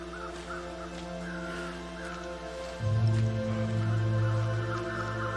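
Crows caw repeatedly in the snowy wilderness of the survival video game The Long Dark, distant calls rising over a steady wind-like ambient drone with a low tone that shifts midway.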